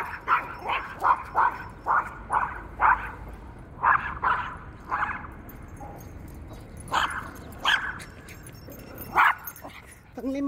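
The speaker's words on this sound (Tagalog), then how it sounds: "Nagbabark na po yung aking aso." A pet dog barks in a parking garage during a jogging walk: about a dozen sharp, fairly close barks come in quick bursts and then more spaced-out ones, with a few higher yips over a low rumble of echoing background.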